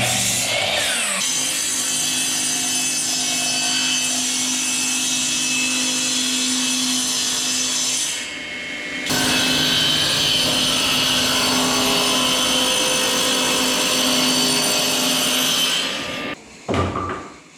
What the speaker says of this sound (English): We're going to rip them down with the table saw.